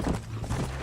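Horse hooves gallop in Red Dead Redemption as a brief burst of quick hoofbeats over a low game background, close and fairly loud.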